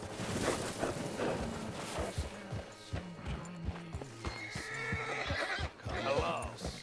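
Horse hooves clop in a steady rhythm while a horse neighs several times, with voices talking and game noise around it, in the video game Red Dead Redemption 2.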